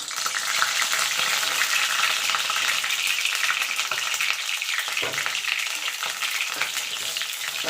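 A steady, loud sizzle of bitter gourd and onion frying in hot oil over low to medium heat, with occasional stirring scrapes.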